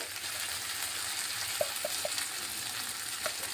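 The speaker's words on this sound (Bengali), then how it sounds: "এখন ভালোভাবে চালটা একটু ভেজে নিচ্ছি" Gobindobhog rice being fried with salt in a pan gives a steady, soft sizzle throughout, with a few light scraping stirs near the middle and end, close but quiet, and no voices.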